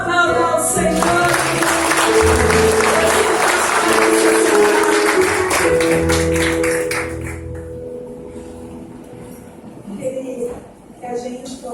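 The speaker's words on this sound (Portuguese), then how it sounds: "Aplauda ao Senhor." A congregation claps together during a church worship service, a dense, steady wash of applause over sustained music that fades away after several seconds into quieter tones.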